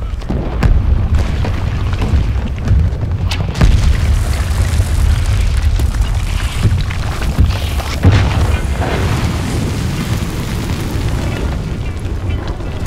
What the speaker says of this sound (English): It's very satisfying seeing those buildings blow up